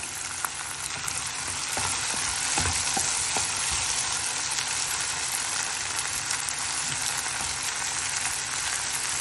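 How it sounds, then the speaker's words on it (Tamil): Chopped tomatoes sauté with onions in a pan while cooking keerai masiyal. A constant loud sizzle runs throughout, with a few light utensil taps and stirring sounds and no talk. "சேர்த்துட்டு தக்காளி கொஞ்சம் நல்லா வதங்கட்டும்."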